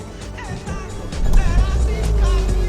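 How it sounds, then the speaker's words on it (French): A car with an R-Link infotainment unit is started, its engine rising into a low, steady rumble about halfway through and idling on, with a faint voice in the background. "Vous démarrez la voiture."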